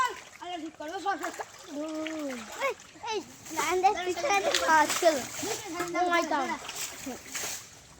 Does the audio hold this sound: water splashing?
yes